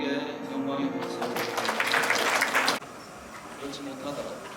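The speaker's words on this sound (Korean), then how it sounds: "하나님께 영광의 박수를" A congregation bursts into loud, dense applause at a praise and worship gathering, sustained for about two seconds over lingering music before cutting off sharply, with quieter room sound after.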